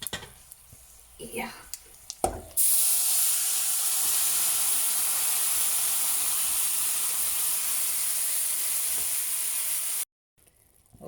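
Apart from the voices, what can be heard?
pressure cooked cabbage curry added to a hot wok, sizzling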